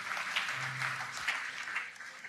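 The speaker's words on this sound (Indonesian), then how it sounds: "Yang mau kasih tepuk tangan yang paling meriah, yang paling kasih." Congregation applause at a Sunday evening church service, a steady, moderate wash of clapping that carries on for a couple of seconds.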